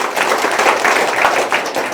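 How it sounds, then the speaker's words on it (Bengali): An audience at a Caritas cash distribution event in Kanaighat claps together, a steady crowd of many hands applauding at moderate volume for the whole moment. "কারিতাস কর্তৃপক্ষকে আমরা একটা হাততালি দিই সকলে মিলে।"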